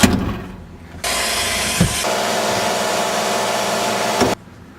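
A vacuum cleaner cleans a car's interior floor, starting up after a quiet moment, whirring steadily and loud at close range for about three seconds, then cutting off, with no talking.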